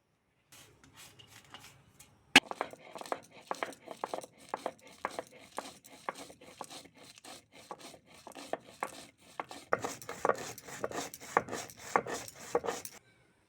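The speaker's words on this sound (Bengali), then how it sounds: "এবার ভেজে রাখা মশলাটা গুঁড়ো করে নেব" Roasted spices for Bengali amla pickle crushed into powder by hand, a steady run of sharp grinding and pounding strokes close by, growing busier and denser toward the end with no voices.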